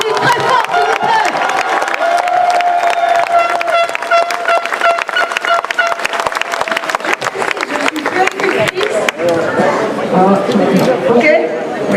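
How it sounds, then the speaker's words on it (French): Audience at a street demonstration in Bordeaux applauding loudly and steadily, dense crowd clapping with cheers and scattered voices mixed in throughout. "On applaudit très fort, s'il vous plaît."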